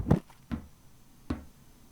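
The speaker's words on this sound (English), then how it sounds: "I think that is the sound of Gran bopping them on the head" Three dull, hollow knocks from Gran bopping someone on the head with her cane in the Beacon Pines game, the first two close together and the third after a short pause, each soft and brief.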